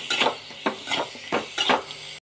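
Chicken sautéing in a pan with coconut oil, with a gentle sizzle beneath four or five rhythmic scraping clinks of a spatula against the pan, close by, ending abruptly.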